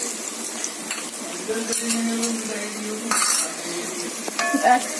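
Garlic paste sizzles in a pan while a spoon stirs and scrapes it, producing bursts of frying hiss and metallic clinks, with faint talk in the background.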